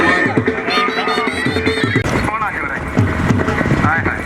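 Horses gallop at a tent pegging event in Fatehpur, Gujrat, with loud crowd noise and an excited announcer talking over the pounding hooves throughout.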